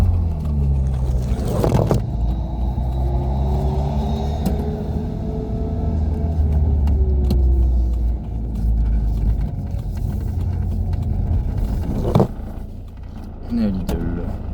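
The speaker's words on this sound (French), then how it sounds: "c'est un moteur que j'aime beaucoup et dont la sonorité me plaît malgré que ce soit un 4 cylindres" Renault Super 5 GTR 1.2 four-cylinder engine droning steadily while driving, a close, continuous rumble with gear changes and brief louder surges.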